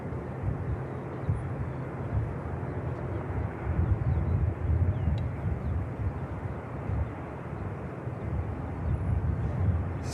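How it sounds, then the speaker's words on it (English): An ATR turboprop airliner taxis at Manchester Airport, giving a steady, moderately distant engine drone with wind buffeting the microphone, swelling slightly at intervals and continuing throughout without speech. "the ATR for Belfast is now finally on its way"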